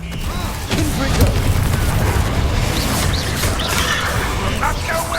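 Fiery spell blasts boom and crackle loudly in the Hogwarts Legacy video game, a dense, sustained roar of magical explosions with combat noise layered throughout.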